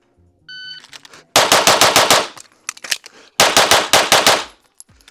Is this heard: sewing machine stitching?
no